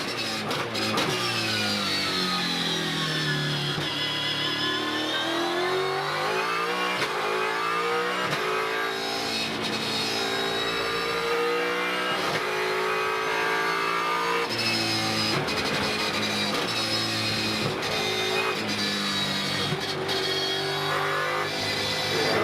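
A V8 Supercar at full race pace around the Circuit of the Americas in Austin, its engine roaring loud and continuous, pitch climbing and dropping repeatedly through gear changes and corners across the lap.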